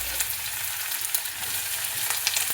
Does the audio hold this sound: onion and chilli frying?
yes